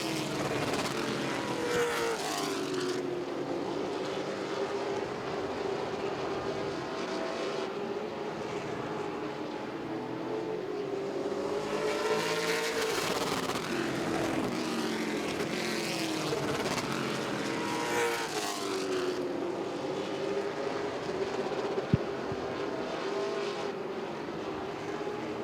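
Pro Late Model race cars circle the Southern National Motorsports Park speedway, their engines swelling and fading in repeated passes as cars roar by one after another, loud and continuous with a droning roar between passes.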